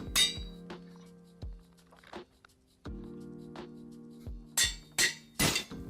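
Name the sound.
anvil breaking in Minecraft, video game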